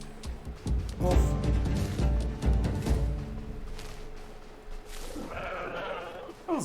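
Sheep in the RuneScape: Dragonwilds game world bleat in wavering calls over a steady bed of game ambience and footsteps, loud and close.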